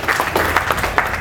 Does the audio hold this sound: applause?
yes